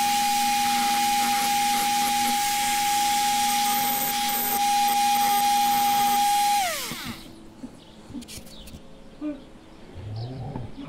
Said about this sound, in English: I'll use this burr bit to knock off the top of the pillars.